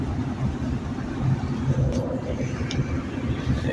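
Car interior drone while driving, a steady low rumble of engine and road noise that stays constant throughout, with no clear speech over it.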